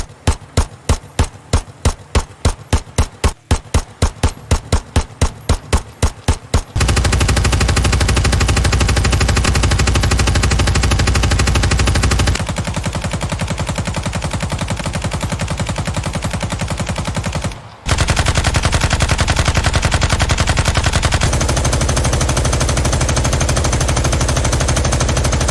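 Weapon fire from the Ground Branch tactical shooter: a run of sharp, evenly spaced single shots, then long, loud sustained automatic bursts that continue with brief pauses, close and alone with no voices.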